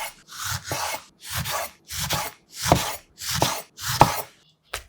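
A knife cuts a tangerine into thick slices, about 0.6 cm each, on a cutting board. Seven evenly spaced rasping cuts land roughly every 0.6 seconds, each ending in a soft board tap, close and with no talking.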